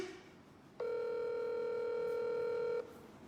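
A single steady electronic telephone tone sounds for about two seconds over quiet background hiss, then stops.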